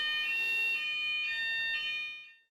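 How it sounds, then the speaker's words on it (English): A fire alarm sounds at a leadership team panel discussion, a steady loud electronic tone with sharp harmonic bands that holds for about two seconds and then cuts off into silence. "There's the fire alarm."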